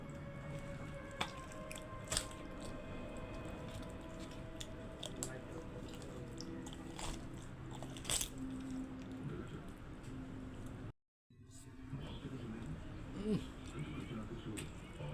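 Someone chewing and eating rice mixed with pangas fish oil, with soft wet squishing and smacking bites repeating close up under continuous background talk.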